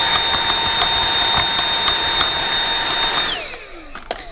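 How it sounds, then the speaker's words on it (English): A vacuum cleaner runs loud and close with a steady high whine while cleaning the foam of a Dyson HP02 hot and cold air purifier fan, then spins down near the end with a few knocks. "You get the vacuum cleaner on this bit in case the foam has dust on."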